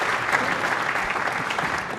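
A crowd at the Weber Cup 2012 bowling contest between Team Europe and the USA applauds and cheers steadily for a strong shot in the Baker game, a dense continuous wash of clapping with no talk over it.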